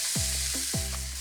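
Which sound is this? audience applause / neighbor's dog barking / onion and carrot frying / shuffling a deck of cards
onion and carrot frying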